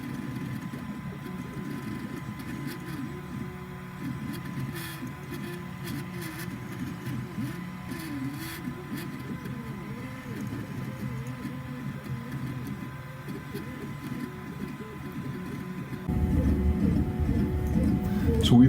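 A 3D printer partway through a print job runs steadily, its stepper motors making a continuous whirring hum with wavering, sweeping tones; the sound grows somewhat louder near the end.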